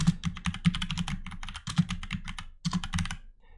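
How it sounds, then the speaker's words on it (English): Fingers type quickly on a computer keyboard while entering HTML code, a dense close-up patter of key clicks in bursts with brief pauses, fading at the end. "Go down here, we'll type in the same thing."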